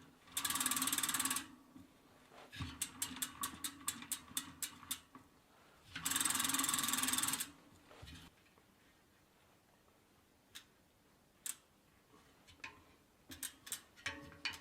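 Bicycle drum brake on a Juncker bicycle tested on a spinning wheel: ticking ratchet-like clicks from the freewheel, with two loud bursts of broadband whooshing friction as the brake is applied, then scattered faint clicks.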